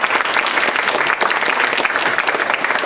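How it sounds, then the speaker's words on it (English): A workshop audience gives a round of applause, dense, close clapping that stays loud and even from start to finish with no voices over it. "Let's have a round of applause."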